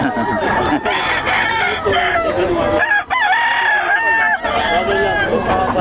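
Loud fighting roosters crow repeatedly and close up, overlapping one another with drawn-out calls and clucks in between.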